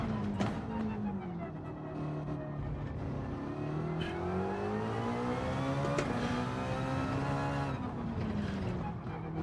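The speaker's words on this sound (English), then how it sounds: "This thing winds up, doesn't it? It really runs long through the gears." A race car engine in a sim racing game during a time trial, winding up high and long through the gears, with steady rising pitch sweeps and brief drops at each shift, loud and continuous throughout.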